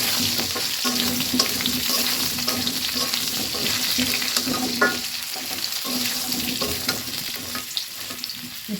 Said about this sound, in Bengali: আলুর সঙ্গে খুব ভালোভাবে ভেজে নেব